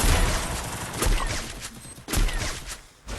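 Gunfire from a PC video game, with heavy booming shots landing around 1 and 2.1 seconds amid dense, continuous battle noise and rolling explosions.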